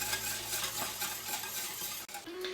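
Almond paste being stirred with a utensil to dissolve it for almond milk, a steady scraping and swishing close up that runs continuously, with a brief clink near the end.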